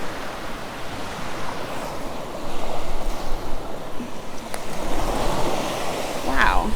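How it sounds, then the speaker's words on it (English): Strong wind buffeting the microphone on a Sanibel beach during an early morning shelling walk, with surf washing in beneath it and growing louder toward the end. "Hard to hear with all this wind."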